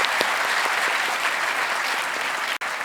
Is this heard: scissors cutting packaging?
no